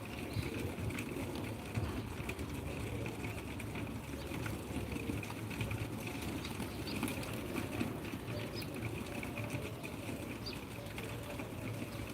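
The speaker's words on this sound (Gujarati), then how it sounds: "પાણી પીએ નાહે કબૂતર જુઓ" Pigeons gathered to feed on scattered grain and drink water, cooing softly amid a steady patter of pecking and wing movement, fairly faint and without talk.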